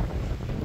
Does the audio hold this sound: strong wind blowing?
yes